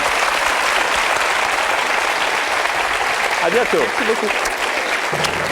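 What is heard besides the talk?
TV game show studio audience applause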